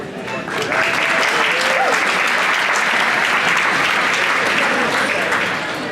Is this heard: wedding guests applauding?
yes